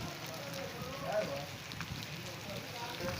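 Heavy monsoon rain in Taxila hisses steadily across the whole stretch, a dense, even wash of falling water with no clear breaks.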